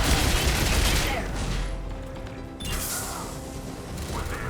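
Sustained gunfire in the Mass Effect Legendary Edition video game, dense overlapping bursts and crashes at a checkpoint battle, loud and continuous throughout.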